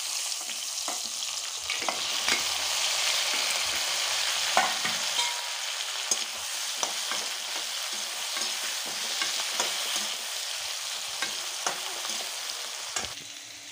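Chopped onion, tomato, garlic and cashews fry in a kadhai for a dum aloo gravy, giving a steady, close sizzle with occasional stirring scrapes throughout.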